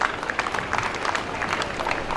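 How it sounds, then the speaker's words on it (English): An audience at a university convocation applauds its graduates, a dense stretch of clapping from many hands filling a large hall, steady and moderately loud throughout. "Please join me in applauding all our graduates."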